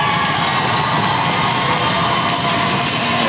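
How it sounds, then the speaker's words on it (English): A Melbourne Ice women's ice hockey crowd roars as a bronze medal game ends, dense loud cheering and shouting from a packed arena filling the whole stretch without a break. "And we hear the roar here from the Melbourne Ice crowd."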